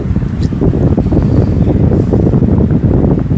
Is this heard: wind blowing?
yes